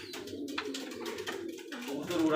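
Soft, low coos of Giribaj highflyer pigeons at a pigeon farm repeat in short throaty phrases, close by, with faint rustling and background noise between them.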